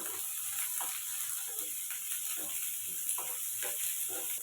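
Curry leaves and coriander lightly fried in a pan, a low sizzle broken by a few short scraping stirs, close and quiet with no one speaking.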